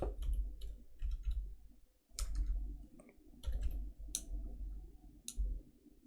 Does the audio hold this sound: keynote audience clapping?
no